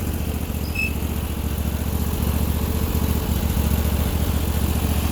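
The engine of a Sears loader tractor runs steadily at a close, loud, even idle, a continuous rumbling drone with no voices over it.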